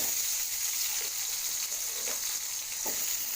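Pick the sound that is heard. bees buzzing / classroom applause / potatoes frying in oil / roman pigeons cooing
potatoes frying in oil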